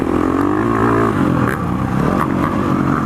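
A 2019 KTM 350 XCF dirt bike engine pulls in first gear through an inside turn, a loud, steady close-up drone with dense low harmonics, no speech over it.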